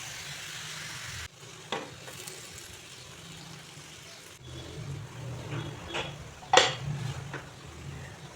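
Ash gourd pieces fry gently in a covered pan over a low gas flame, a soft continuous sizzle with a few clicks and a sharper clatter of the lid or utensil partway through.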